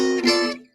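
A single bright guitar note or chord rings out high on the neck, part of the melody of a gypsy jazz tune. It sounds clear and close, decays within a second, and has no talking over it.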